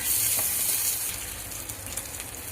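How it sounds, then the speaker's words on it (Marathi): Grated coconut frying in hot oil in a pan, a steady close crackling sizzle that holds through with no talk. "खोबरं तळून घेऊ तेलामध्ये."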